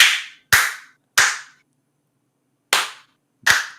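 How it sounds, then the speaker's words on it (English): Five sharp, loud hand claps in a room, spaced irregularly with short pauses, each ringing briefly before silence. "I just start clapping."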